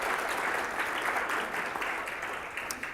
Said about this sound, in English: So big round of applause for our sponsors for helping us make this event great.